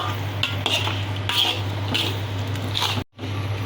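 Pink coconut milk halwa is stirred in a pan, giving soft repeated squishing scrapes over a steady low hum, with a brief dropout near the end.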